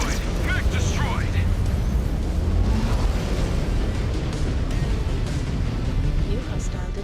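A mech exploding as it is destroyed in Mechwarrior Clans, a loud, sustained booming rumble that fills the whole clip under continuous game noise, with a synthetic voice talking over it.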